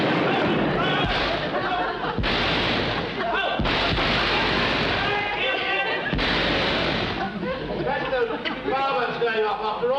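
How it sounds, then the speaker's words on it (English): Repeated booming bursts of fireworks crack and rumble in the distance while people talk over them. "Fireworks going off after all these years."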